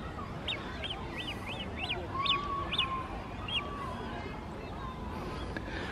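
Geese honking on a boating lake at Heaton Park, a run of repeated nasal honks at middle distance over faint outdoor background noise.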